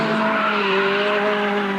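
A Renault Maxi Clio rally car screams around a racing circuit, its engine holding a high sustained note while the tyres squeal, loud and steady over a short stretch.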